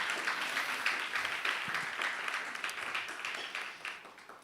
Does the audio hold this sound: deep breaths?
no